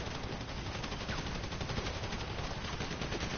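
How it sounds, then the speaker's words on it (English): Rapid automatic gunfire in GTA, a dense rattle of shots held at an even loudness for the whole stretch, close and continuous, no talking over it. "He shooting my feet."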